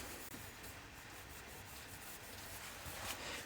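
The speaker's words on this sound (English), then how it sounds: "burnishing cream with a piece of safety cloth. What I'm going to do is just rub that over it, just gently underneath." Cloth rubbing burnishing cream onto a turned pen, producing a steady, close, soft rubbing hiss that continues evenly without pause.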